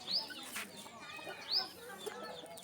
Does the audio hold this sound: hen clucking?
yes